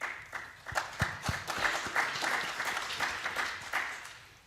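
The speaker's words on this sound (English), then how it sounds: "You say that after they've clapped." Panel discussion audience clapping, a moderate patter of many hands with a few sharper claps standing out, heard at medium distance in an indoor hall.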